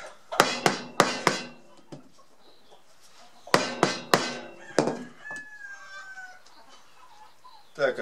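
Sharp hammer blows on metal ring out in quick bursts of three or four, pause, then strike again, with a faint chirp and a final knock near the end, while making a pipe bender.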